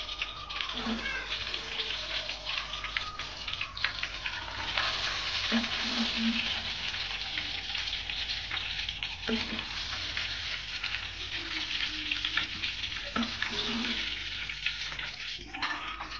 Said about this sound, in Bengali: এবার বাকি মাছগুলো ভেজে নেব।